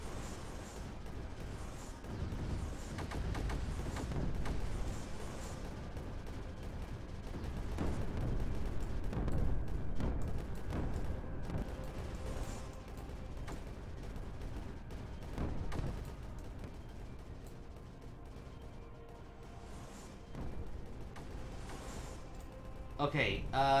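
Cannon and artillery fire in a video game: a dense, continuous stream of booming shots and rumbling blasts, loud and sustained throughout, with a voice talking over the barrage.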